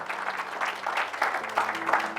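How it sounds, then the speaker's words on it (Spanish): A church congregation claps for Christ during a sermon, a moderate, uneven patter of applause heard at middle distance with a faint sustained tone beneath it. "denle ese aplauso a Cristo"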